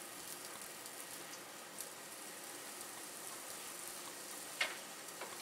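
Welshcakes, about six at a time, fry in a pan with a faint, steady, soft crackling sizzle and a couple of tiny ticks; no one talks.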